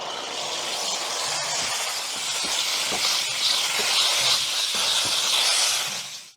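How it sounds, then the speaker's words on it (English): A steam cleaner hisses continuously while cleaning a helicopter's windows, a steady close broadband jet of steam that holds for several seconds with faint clicks underneath before cutting off. "You can even use the steam cleaner on the windows."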